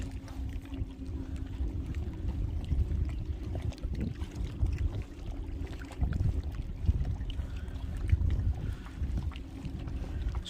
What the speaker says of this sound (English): but we're gonna have to paddle back to over there to that boat ramp right there.